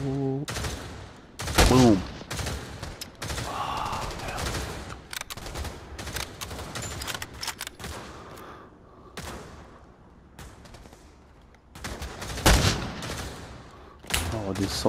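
Sniper rifle gunfire in the VR shooter Pavlov, several loud, sharp single shots spaced seconds apart with reloading clatter and handling noises between them, and a person talking at points.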